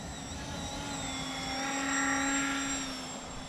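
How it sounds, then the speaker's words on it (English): Small DIY twin-rotor RC gyrocopter powered by race drone motors spinning 5-inch props on 3-cell, flying outdoors on a breezy day: a steady high motor whine with tonal harmonics that swells slightly as it passes nearer, no voices. "I'm just using a little race drone motor on this thing with a 5-inch prop on 3-cell, and it seems to have plenty of power."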